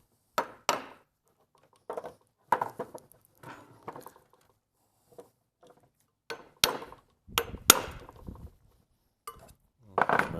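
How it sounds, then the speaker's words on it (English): Metal hammer blows knocking out a universal joint on a Mercedes ML W163 driveshaft, a series of sharp clanking strikes in irregular bursts with short pauses, close and loud, with no talk. "Just gonna hammer it out a little bit."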